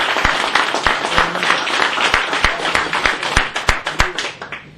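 Applause from an audience, with loud, distinct individual claps standing out sharply from the crowd's general clapping.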